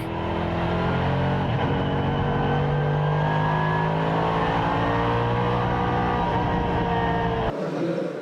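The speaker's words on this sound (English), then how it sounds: "Lam continued to lap the Craft Bamboo car, proving that there's no hiding place out on track" Endurance race cars lapping the Inje circuit during the 2014 Asian Le Mans Series, a continuous loud, droning engine roar with layered tones from several cars, sustained throughout before an abrupt drop near the end.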